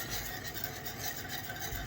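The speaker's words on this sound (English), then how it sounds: "As I'm whisking, it's adding more goodness off the bottom and getting that garlic powder put right in there, mixed right in." A whisk scraping and rubbing steadily across the bottom of a cast-iron skillet, stirring garlic powder into a liquid; a continuous close, raspy scrubbing texture with no pauses and no talking.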